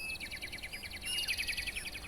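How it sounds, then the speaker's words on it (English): Birds in a tree chirp continuously in quick, repeated high trills, layered and fairly steady, with a low background rumble beneath. "Turtle heard the birds chirping from a tree branch above him"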